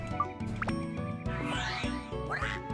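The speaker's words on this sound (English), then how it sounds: "He sounds like a frog." Low, rhythmic croaking groans from a frog-like monster in the action role-playing game Dark Cloud, pulsing repeatedly over a busy game soundtrack at moderate loudness.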